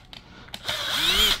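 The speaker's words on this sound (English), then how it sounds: "2 screws here. Unscrew." A power screwdriver backs screws out of an Arcade1Up cabinet: two faint clicks, then a close, steady whirring whine that rises in pitch for just under a second.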